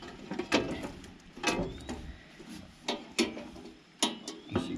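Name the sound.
removing a cover from a John Deere brush hog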